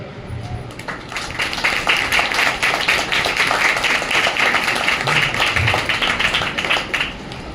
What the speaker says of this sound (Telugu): శరీరంతో చప్పట్లు కొట్టండి